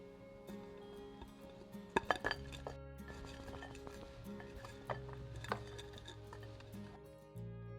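Peaches and fresh ginger tipped into a glass roasting dish, with a cluster of bright clinks and taps of fruit and utensil on glass, quiet and close, over soft background music.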